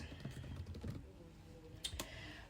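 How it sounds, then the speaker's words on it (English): Typing on a computer keyboard: a quick burst of close key clicks early on, a pause, then a couple of sharper isolated taps near the end, in a quiet room. "Let me type this."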